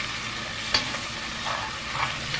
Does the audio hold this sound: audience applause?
no